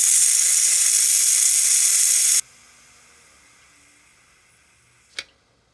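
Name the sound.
Ninja Foodi pressure cooker releasing steam through vent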